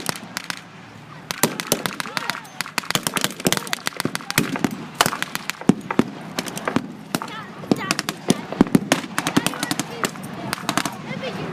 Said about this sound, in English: The 6-pounder strikes again in the direction of the German armour.